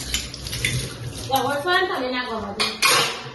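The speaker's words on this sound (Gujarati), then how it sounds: "વાસણ ઘસ" Metal dishes are scrubbed and washed in a home kitchen, with clattering, scraping contacts and a couple of sharp clanks near the end, mixed with running water and voices talking.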